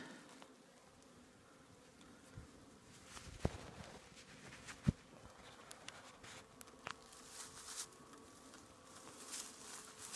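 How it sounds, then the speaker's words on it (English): A faint, thin mosquito buzz hovers in a quiet outdoor setting near a beehive, with scattered soft ticks and taps, no talking. "Oh, these mosquitoes."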